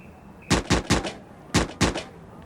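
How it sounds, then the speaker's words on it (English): Five sharp gunshots ring out in two quick bursts, three then two, each loud and echoing briefly, with no talking. "That's gunfire, not firecrackers."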